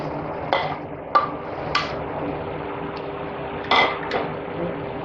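Carrots for carrot halwa being stirred in a pan, with a few sharp metallic clinks of a spoon against the pan scattered over a soft, steady background hum.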